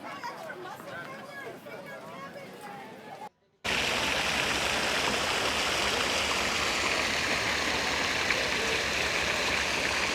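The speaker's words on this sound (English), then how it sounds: "And now I'm going to head down to the river, but I can hear water." River water flowing steadily in Finland, a dense, continuous rushing wash that starts abruptly after a few seconds of faint outdoor ambience and distant chatter, then stays loud and unbroken.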